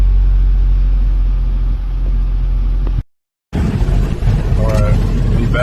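A BMW E53 X5 idles with a steady low engine hum just after a fuel pump replacement, interrupted by a brief silent gap before the same idle returns with light background noise.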